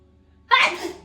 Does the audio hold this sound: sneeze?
yes